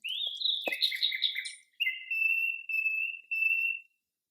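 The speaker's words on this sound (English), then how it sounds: "a bird sings goodnight to the garden" A bird sings nearby: a quick run of bright chirps, then a brief pause and several long, clear whistled notes repeated evenly before stopping.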